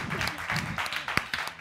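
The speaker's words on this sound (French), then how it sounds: "On peut l'applaudir quand même" Applause from a live audience at a Tekken gaming show, a brief burst of scattered claps over about a second and a half, fairly faint with a few sharper individual claps near the end.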